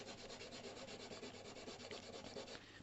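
Steady, even sanding of a wooden handle from a 90-year-old Stanley Bailey No 4 hand plane, worked with 180 grit sandpaper in continuous close-up rubbing strokes and no talk.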